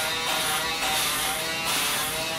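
Electric clippers shave a person's head, a steady close buzz that runs throughout with slight surges in intensity, like a small sander droning alone without talk.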